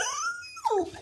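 A sad dog gives a single high, drawn-out whimper that slides upward and then drops into a short whine, close and clear with no talk over it.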